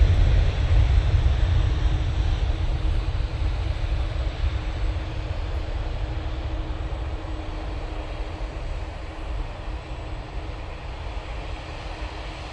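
A Boeing 737 MAX 8 departs Manchester Airport for Malta, its deep engine rumble loudest at first and then fading gradually as it climbs away, with no talk.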